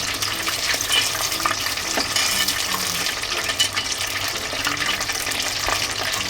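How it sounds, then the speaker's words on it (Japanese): Karaage fried chicken bubbling and crackling in hot frying oil, a dense steady sizzle with scattered sharp pops running throughout, close and loud with no talking. "このパチパチがちょっと収まってきたら水分が飛んでる証拠なので"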